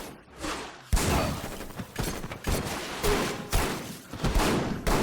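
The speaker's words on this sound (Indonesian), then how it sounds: "Aksi tembak-tembakan pun terjadi." Rapid bursts of gunfire crack out one after another over a loud, chaotic background, like a heated exchange of shots.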